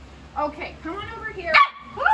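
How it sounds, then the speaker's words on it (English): A pet dog gives a few short barks and yips close by, mixed in with a person speaking over it. "That was my dog."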